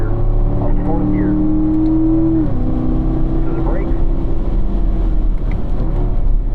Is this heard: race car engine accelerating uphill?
yes